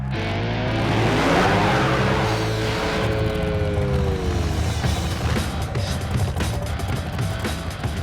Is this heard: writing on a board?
no